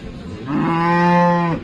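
A single loud, close moo from a dairy cow in her fourth lactation at a cattle sale, drawn out for about a second after a brief low grunt.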